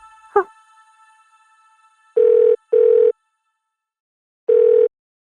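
A brief click, then three electronic ringing tones of steady pitch: two close together, a pause, then a third, as if a phone is ringing through a speaker.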